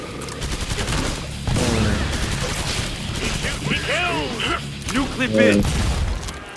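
Rapid in-game gunfire from Killing Floor 2 rattles out in dense bursts with mechanical clatter, close and loud, while players talk excitedly over it.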